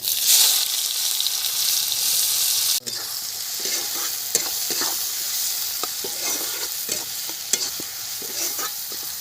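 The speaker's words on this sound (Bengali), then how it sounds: "পেঁয়াজটা আস্তে আস্তে ভাজা হোক" Onions frying slowly in hot oil with nigella seeds and bay leaf, a loud continuous sizzle close up, with a sudden drop as they go in, then scattered scrapes of stirring.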